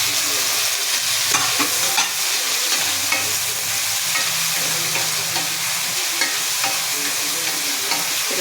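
Tomatoes with a little garlic paste sautéing in a hot pan, with a steady loud sizzle throughout and repeated scraping stir strokes at irregular intervals, no voices.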